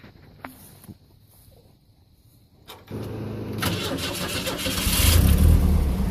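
The engine of a Fiero trike, idle for a couple of days, cranks after a few faint clicks and catches, then settles into a steady, loud running rumble that builds slightly as it revs.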